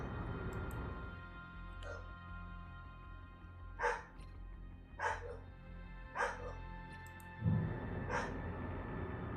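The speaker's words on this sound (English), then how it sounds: "Sorry about the dogs. Not sure what they're barking about out there" Several dogs bark outdoors in short, separate bursts, a few seconds apart, sounding somewhat distant over a low, steady background hum.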